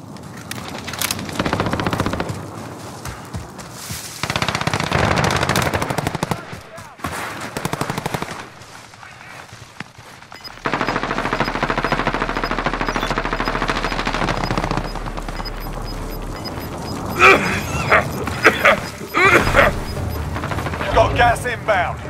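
Call of Duty: Modern Warfare gameplay fills with dense machine-gun fire, long rattling bursts broken by short gaps, loud and near, with voices speaking at times.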